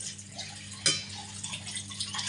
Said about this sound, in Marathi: तर चला आपण तेवढंच पाणी टाकूया